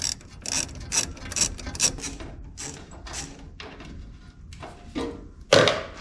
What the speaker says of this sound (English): Get the bottom radiator hose off now.